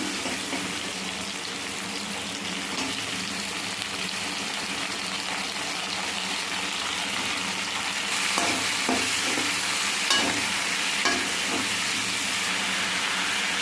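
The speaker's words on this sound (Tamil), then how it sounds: "வெங்காயம் தக்காளி வதங்க ஊற்றி பீன்ஸை போடுங்க." Beans frying in a pan with onion and tomato for sambar, a loud, steady, dense sizzle close up, with a few clacks and stirring scrapes later on.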